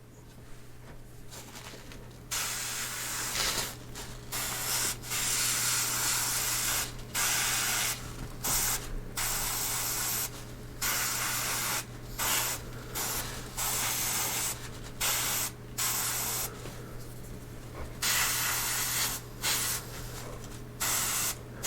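A Badger Sotar 20/20 airbrush sprays paint in repeated short bursts separated by brief pauses, a steady close hiss over a constant low compressor hum, with no talking.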